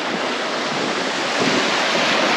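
Ocean surf breaking on a sandy beach, a loud continuous wash of waves and foam with wind buffeting the microphone, no voices.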